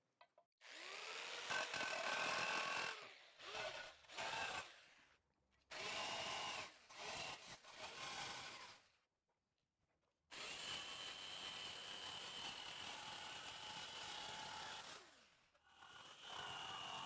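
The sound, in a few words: power tool cutting aluminum horse plate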